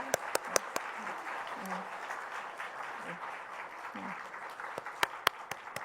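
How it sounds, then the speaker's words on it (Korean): Church congregation applauds new-member course graduates at Jamsil Jungang Presbyterian Church: a soft wash of clapping with a few sharp, close claps popping out at the start and near the end, and a voice murmuring briefly underneath. "박수로 화답 부탁드립니다"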